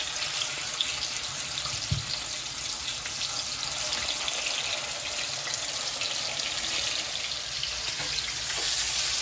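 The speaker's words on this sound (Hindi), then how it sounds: "Can you hear that sizzle?" Marinated mutton chops sizzle in oil on a hot tawa, a steady dense crackle that stays even and fairly close throughout, with one soft knock near the start.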